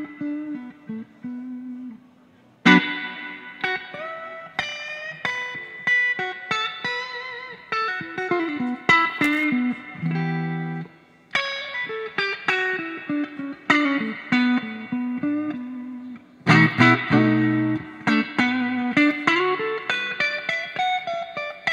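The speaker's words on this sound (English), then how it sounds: "love that reverb" A Fender Vibro-King 20th Anniversary guitar amplifier in a pine cabinet plays clean picked guitar phrases and chords, each note ringing out into a lush spring reverb tail, with no talking.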